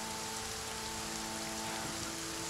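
Steady, even rain patters continuously at a quiet level on an outdoor scenic spot, with faint sustained musical tones underneath.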